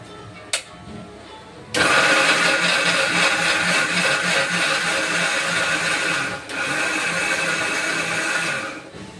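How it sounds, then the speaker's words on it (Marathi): A kitchen mixer grinder grinds roasted masala, starting abruptly after a small click and then running in a loud, steady whir with a brief dip partway through, with no voices. "त्याला आपण मिक्सरमध्ये बारीक करून घेऊया"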